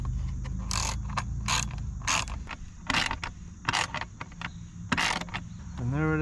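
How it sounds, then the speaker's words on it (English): Repeated ratchet clicks from a T25 Torx ratchet tightening bolts on a carbon fibre heat shield of a 2021 Husqvarna 701 Supermoto, close and in short bursts with pauses between strokes. "Okay, so using our T25 Torx, that one's on. I'm gonna go ahead and tighten these up."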